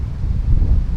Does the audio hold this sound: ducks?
no